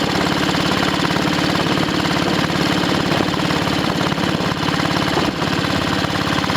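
An Ariel 500 motorcycle engine runs on a test ride after recommissioning, a loud, steady, close single-cylinder thump that continues without pause through the whole stretch.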